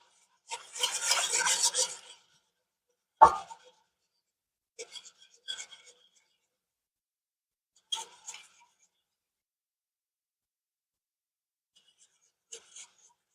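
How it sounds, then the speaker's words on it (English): Apple jelly with sugar and pectin is stirred in a pot, giving a raspy scraping burst followed by sparse, short stirring scrapes and clinks separated by quiet gaps. "We're stirring. We want that pectin to dissolve, and we want that sugar to dissolve."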